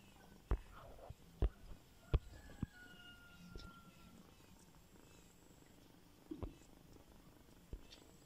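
A cat purrs softly and close by at a guesthouse in Murighiol, in Tulcea county. A low continuous rumble runs under a few soft thumps and rustles, and no one speaks.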